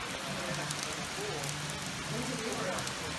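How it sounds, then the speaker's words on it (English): Steady rain pours down during a Tennessee trip, a dense, even hiss that fills the whole stretch with people talking faintly underneath. "Now that is rain."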